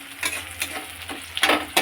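Reddened onions being stirred in a pan as ginger garlic paste goes in, with short scraping strokes and sizzling bursts over a brief, close, uneven stretch.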